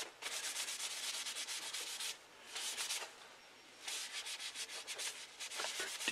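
Close, rhythmic rubbing strokes of a napkin working teak oil into a wenge wood knife handle, soft swishing passes with brief pauses between them.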